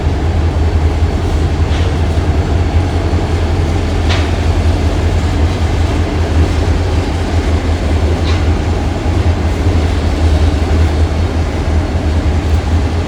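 Old EMD SD40 diesel locomotives roll steadily past, a loud continuous low engine drone and rail rumble with faint wheel clatter lasting throughout.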